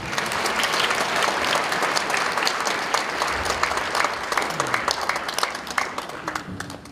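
Warm, sustained applause from a church congregation at a denomination's 70th anniversary service welcomes the preacher. Many hands clap steadily throughout, loud and close, with no talking over it.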